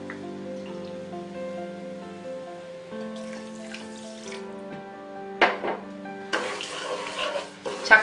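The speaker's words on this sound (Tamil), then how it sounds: "இதுக்கு 2 கப் தண்ணி விட்டுக்கலாம்." Water is poured into a pan of sugar while making Bombay Karachi halwa, a short splashing rush then a longer steady pour that sits over soft, sustained background music.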